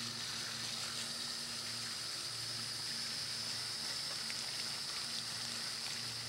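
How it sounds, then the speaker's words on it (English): Steady shower-style water spray rinsing soil from the roots of a Buddha plant during a bonsai transplant, a continuous even hiss of running water at close range with no talking. "And for the cleaning, I think just a shower will do most of this."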